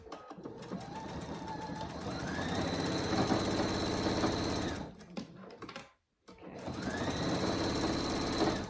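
Electric sewing machine running fast to stitch a half-inch seam in hammock fabric, a loud rapid mechanical whir with a brief pause and stop before starting up again.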